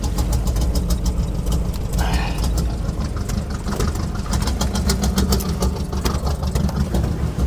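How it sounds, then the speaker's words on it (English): A car engine idles roughly with its motor visibly shaking, giving a steady low rumble with uneven, repeated knocking pulses. There are no voices over it. "Look at that motor shaking."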